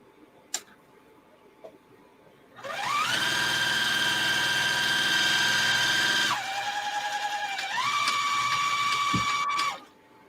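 A sewing machine stitches a zippered bag, running at a steady motor whine with rapid needle ticking for several seconds. It dips briefly, then picks up again and stops, close and alone after a couple of faint taps.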